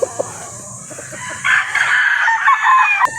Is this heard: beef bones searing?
no